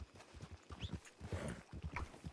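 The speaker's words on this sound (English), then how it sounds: "I got a different horse sound." Horse hooves clip-clop in a Wild West roleplay video game, a steady run of fairly loud, rhythmic low thuds with a brief high squeak or tone mixed in.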